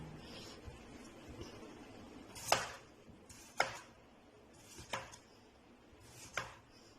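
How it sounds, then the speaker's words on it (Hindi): A knife cutting a large peeled potato into slices on a board, four distinct sharp chops spaced about a second apart over a faint quiet background, close by and with no talking. "उसको छील कर हम इस तरह के स्लाइसिस में जो है वो काट रहे हैं"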